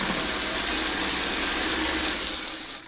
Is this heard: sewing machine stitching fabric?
yes